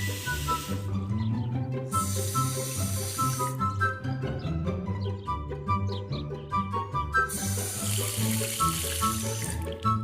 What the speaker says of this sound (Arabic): افتح الحنفيات وافتح الدش.